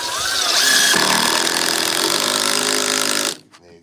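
A power drill whirs loudly and steadily as it drives screws into a wooden stool being built, the motor pitch dipping under load for about three seconds before cutting off abruptly.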